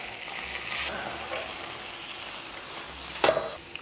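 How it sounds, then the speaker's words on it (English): Mushrooms fry in a pan after other ingredients, a soft steady sizzle running throughout at low level, with a brief louder clatter near the end. "In the same pan, we fry the mushrooms"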